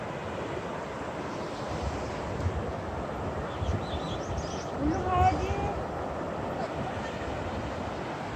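A stream flows into the sea on the Jeju coast, a broad steady wash of water and surf with some wind, heard at moderate level while a voice speaks over it.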